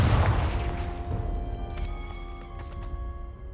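Confringo fire-blast curse cast in Hogwarts Legacy, a deep booming burst at the start that rolls off into a sustained rumble with faint ringing tones, no voices.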